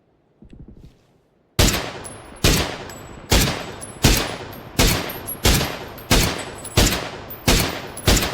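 Loud, evenly spaced gunshots from the video game PUBG ring out one after another, about a dozen sharp blasts with short echoing tails, after a brief quiet start.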